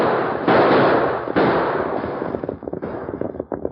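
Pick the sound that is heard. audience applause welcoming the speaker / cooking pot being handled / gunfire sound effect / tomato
gunfire sound effect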